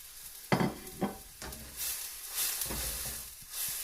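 Curry paste and spices sizzle in a hot pan, with a few loud bursts as they go in and get stirred, then a steady close frying hiss with scraping, and no talk.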